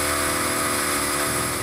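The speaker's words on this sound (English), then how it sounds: "I blow compressed air into the water heater" Compressed air blasts into a cottage water heater in a loud, continuous roaring hiss with a droning mechanical hum underneath, steady throughout.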